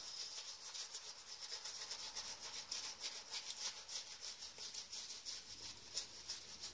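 Omega black badger brush lathering shaving soap on four-day stubble, a steady soft rubbing swish with rhythmic strokes, close and fairly quiet throughout, with no talking.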